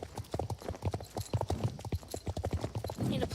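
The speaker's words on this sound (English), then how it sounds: "the North Swedish horse has that, like if you do, you can just hear that stomp" Horse hooves clip-clopping in the Star Stable video game, a North Swedish horse stomping in a steady, fairly loud rhythm of many close hoof falls throughout.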